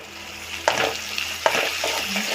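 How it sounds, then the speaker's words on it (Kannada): Onion frying with ginger garlic paste in a pan, a steady close sizzle with two sharp scraping stirs of a spoon against the pan and softer stirring after. "ಚೆನ್ನಾಗಿ ಹಸಿಸ್ಮೇಲೆಲ್ಲ ಹೋಗಬೇಕು, ಅಲ್ಲಿವರೆಗೂ ಫ್ರೈ ಮಾಡ್ಕೊಳ್ಳಿ."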